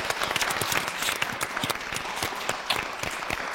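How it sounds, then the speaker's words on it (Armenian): An audience at an evening concert event claps for a popular Armenian folk singer. The applause is a full, dense burst of many hands that stays loud and steady throughout. "եկեք ծափարենք սիրված երգիչ"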